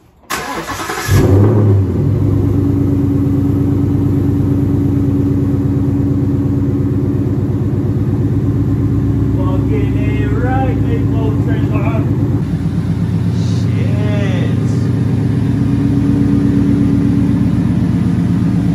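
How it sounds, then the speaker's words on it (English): Car engine cranks and fires up with a sharp start, then settles into a steady, loud idle that runs on alone for the rest of the stretch after repair work on the car. "I'm gonna turn on the car"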